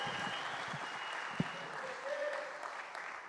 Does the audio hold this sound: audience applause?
yes